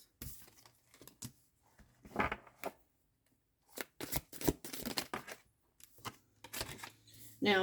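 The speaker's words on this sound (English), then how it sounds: "shuffle." Tarot cards being shuffled for a reading, producing bursts of crisp riffling and flicking in uneven clusters with short pauses between them, fairly close and moderately loud, no talking.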